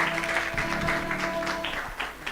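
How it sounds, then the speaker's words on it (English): A conference audience applauds after a performance at the opening of a moot court competition, with steady, dense clapping that holds for a couple of seconds at moderate distance and tapers toward the end. "Let's give it a clap."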